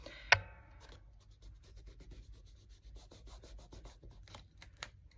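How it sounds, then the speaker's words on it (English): A fingertip rubs ink along the edge of a paper layout, giving soft, quiet, repeated scuffing strokes up close, with one sharp tap near the start. "take my finger and give it a little rub"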